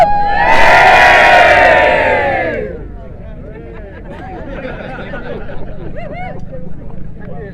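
A crowd at a Seaham event roars an enthusiastic cheer for about two and a half seconds. The cheer then drops away to scattered chatter and murmuring voices.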